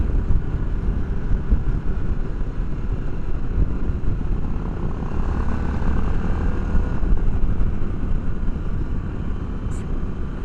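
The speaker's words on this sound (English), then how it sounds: "it doesn't sound like a Harley" A Harley-Davidson Pan America motorcycle engine drones steadily while riding, a constant loud low rumble mixed with wind roar throughout.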